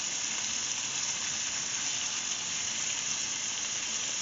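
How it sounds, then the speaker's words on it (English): Steady, loud sizzling of pork chops in a hot pan, a continuous hiss that holds even throughout without any voices. "You hear those chops? They're still sizzling away."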